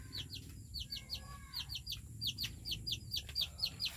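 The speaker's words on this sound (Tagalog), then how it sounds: "Ito mga manok ko guys" Several chickens clucking and chirping in short repeated bursts over a low background hum, fairly quiet and close, with no talk.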